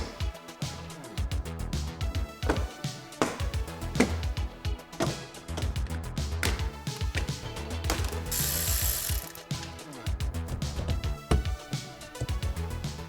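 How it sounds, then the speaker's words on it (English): A ratchet wrench loosens the negative battery terminal on a 2020-or-later Chevrolet Corvette C8, giving rapid, close clicking in repeated bursts with short pauses between strokes. "We better disconnect the negative terminal on the battery."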